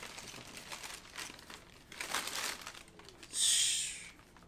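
Tissue paper crinkling and rustling while a boxed pair of Air Jordan 3 Animal Instincts 2.0 sneakers is unwrapped, a steady close papery crackle with a sharper, louder crinkle near the end, no voices.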